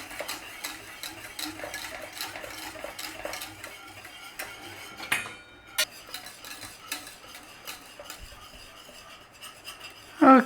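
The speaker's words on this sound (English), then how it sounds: "we're just giving this a little stir, low heat." A utensil stirs diplomat cream in a pot over low heat, a soft rhythmic series of scraping and tapping strokes against the pan, close and fairly quiet, with a brief pause midway.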